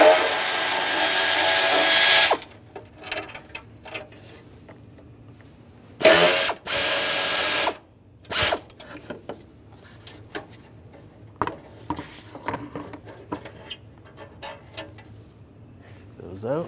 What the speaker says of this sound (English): We're going to take those off, use the 10mm socket.